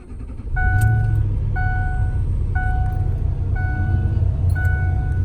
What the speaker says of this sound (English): All right, we're gonna crank her up now, see what happens.